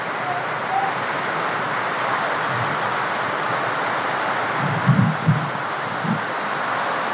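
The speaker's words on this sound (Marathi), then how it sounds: "कारण कसला मोठा पाऊस आहे।" Heavy rain pours down in a steady, dense hiss with no letup, a few soft low thumps rising briefly near the end.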